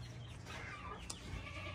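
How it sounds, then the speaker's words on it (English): Chickens clucking in a farm's chicken yard, a steady low murmur of several birds close by with a brief sharper call near the middle, no talking. "we literally are in the chicken yard"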